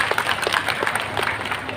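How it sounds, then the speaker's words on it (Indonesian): An audience at a lively religious talk applauds for Rokan Hulu Regency, a brief scatter of mixed handclaps and crowd murmur at moderate volume. "Tepuk tangan dulu dong buat Kabupaten Rohul."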